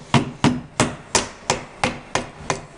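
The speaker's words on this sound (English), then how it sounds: "this is a 3/4 inch chisel. And I'm making cuts that are 3/4 of an inch wide" A 3/4 inch chisel cuts wood on a workbench top, struck by a mallet in eight sharp, evenly spaced knocks, each decaying quickly, close and loud.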